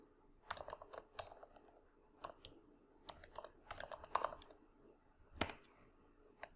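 Code typed on a computer keyboard: quiet, close clicks of keys in short irregular bursts with brief pauses, a few sharper taps standing out, no talking.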